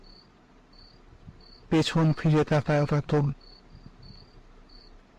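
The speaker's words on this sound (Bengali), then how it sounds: "শুধুমাত্র ঝিঝি পোকার ডাকই শোনা যাচ্ছে" Crickets chirp steadily in short, evenly spaced pulses under a quiet night ambience, with a voice speaking briefly in the middle.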